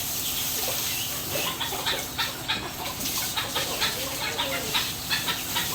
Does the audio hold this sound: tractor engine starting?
no